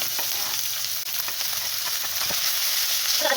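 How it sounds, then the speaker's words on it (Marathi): Chopped onion and curry leaves sizzle loudly and close in a hot pan, a dense continuous crackle with a few brief stirring scrapes. "आता ह्यानंतर कांदा घेते परत कढीपत्ताही घाला"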